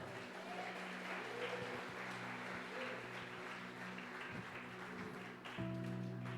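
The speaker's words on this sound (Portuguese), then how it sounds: "Dá uma salva de palmas para o Senhor" A congregation applauds for the Lord during a Portuguese-language sermon, a steady wash of clapping heard from a distance, with faint voices and a low hum beneath.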